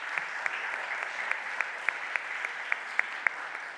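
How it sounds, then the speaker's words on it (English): Applause for the mayor at a city budget hearing, sounding thin and distant, with a soft wash of clapping marked by a few sharper individual claps spaced through it. "Let's give our mayor another round of applause"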